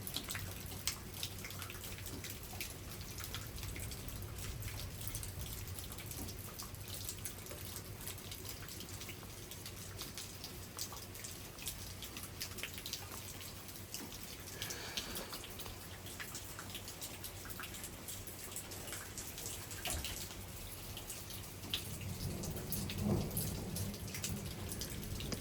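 Steady rain falls through a thunderstorm in Frisco, Texas, a soft continuous patter of drops with dripping water, fairly even throughout and no distinct thunderclap standing out.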